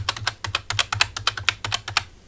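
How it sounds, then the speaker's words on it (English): A particularly clacky computer keyboard is typed on about a foot behind a USB microphone, a brisk run of sharp, loud clicks with no talk. "Let's try some keyboard taps."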